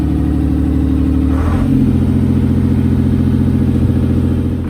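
A DAF 2800 truck engine runs loud and close, a steady low diesel throb with a brief rise in revs partway through before settling back to an even drone.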